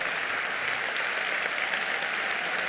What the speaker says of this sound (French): Joëlle, André, si vous voulez bien vous lever et qu'on puisse vous applaudir en tant que diamant